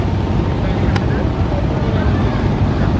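Passenger launch MV Bogdadia 7 overtaking on a river, a steady, loud low engine and water rumble with wind buffeting the microphone throughout.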